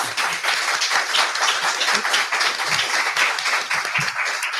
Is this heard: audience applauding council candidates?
yes